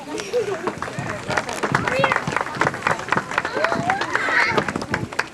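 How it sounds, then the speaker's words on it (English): A crowd at the 1995 Admirals Road powwow claps and cheers, a dense, close burst of applause with voices and shouts mixed in throughout. "would you meet and greet with a big round of applause"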